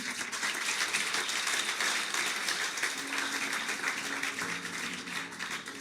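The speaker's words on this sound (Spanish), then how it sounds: "bríndele un fuerte aplauso al Señor" A church congregation at an inauguration service claps in loud, sustained applause, a dense continuous patter of many hands lasting several seconds.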